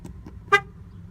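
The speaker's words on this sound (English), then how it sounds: "Wonder if the horn works." A single short car horn honk, close and clear, sounds against a low background hum and a few faint clicks.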